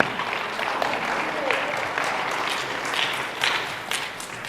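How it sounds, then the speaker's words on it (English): Church congregation applauding during a Kids Zone Sunday service, a dense, even patter of clapping that swells slightly near the end, with faint voices mixed underneath. "Let's give Rick a round of applause."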